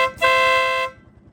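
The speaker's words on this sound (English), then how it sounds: "Let you hear that air horn." A 2006 Honda Big Ruckus PS-250 scooter's air horn blasts once, loud and close, for about half a second over the low idle of the engine.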